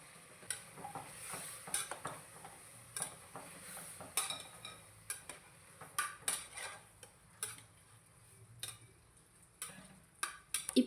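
Half a kilo of washed mutton stirred into a pan for a mutton kuzhambu, with a steady run of close scraping and clinking strokes over a faint sizzle.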